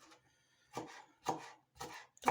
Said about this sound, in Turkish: Doğramaya devam ediyoruz.